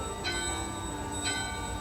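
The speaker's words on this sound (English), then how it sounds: "Rings the bell." A bell in a Final Fantasy XIV dungeon rings twice, each a short bright chime about a second apart, heard over a steady background hum in the game.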